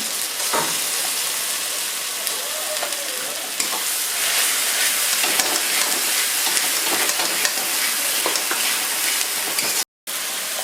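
Onion paste fries and sizzles in a pan for prawn malai curry, a steady dense hiss with scattered stirring scrapes throughout, close and fairly loud, with a brief dropout near the end.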